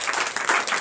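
Brief, steady clapping and cheering from a church congregation during a night deliverance and prophecy service, dense and continuous throughout.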